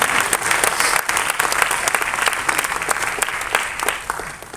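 Sustained applause from an audience at a Tamil music launch event for a biographical film on Puttaparthi Sathya Sai Baba, dense steady clapping filling the whole stretch with a slight taper at the end.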